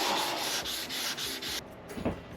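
Body filler being sanded by hand on an 1987 Jeep Wrangler, a steady close scratchy rasp in repeated back-and-forth strokes that pauses near the end before one more pass.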